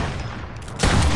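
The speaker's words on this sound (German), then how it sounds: "Letzter Pumpgun-Schuss." A pump shotgun blast in a video game, one sudden loud broadband boom cutting in abruptly and holding through the end of the clip, with no talking over it.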